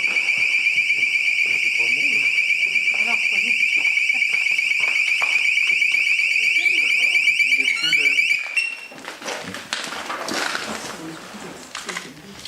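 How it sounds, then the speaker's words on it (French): A motion detector alarm going off with a steady, loud, high electronic tone for about eight seconds before cutting out, with people talking underneath and continuing after it stops. "pour la 2e fois, un détecteur de mouvement se déclenche sans raison apparente"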